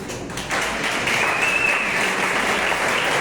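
A church congregation breaks into applause during a sermon, a dense, even patter of many hands that swells after a brief moment and holds steady without speech.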